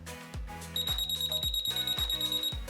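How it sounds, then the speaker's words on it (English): A skydiving audible altimeter, the SonoAlti, sounds its alarm tone: a rapid, regular series of electronic beeps, with a steady high whine joining partway through, close and clear. "It's the tone of the alarm."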